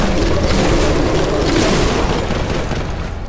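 Melta gun blasting in Warhammer 40K Boltgun, a wide-spread, railgun-like heavy weapon: a dense, continuous roaring burst of fire and booming impacts, loud and sustained throughout with no talking.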